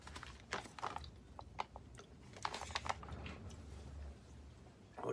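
Chewing and crunching on an Expedition Foods custard and apple meal aboard a boat during a solo non-stop circumnavigation, irregular close bites and mouth clicks over a low background rumble, with no speech.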